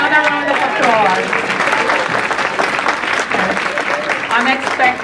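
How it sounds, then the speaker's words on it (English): Audience applause at a graduation luncheon, steady and full for about five seconds, with voices and cheers mixed in throughout the crowd. "Let's give them another round of applause."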